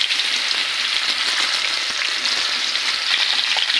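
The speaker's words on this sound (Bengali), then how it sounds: "এবার দিয়ে দেবো সিদ্ধ করা চালতাগুলো কুচি কুচি করে কেটে সিদ্ধ করে রেখেছিলাম।" Boiled, finely chopped elephant apple fries in hot oil with kalonji for a sweet-sour pickle, giving a steady, close, even sizzle with small crackles and no talking.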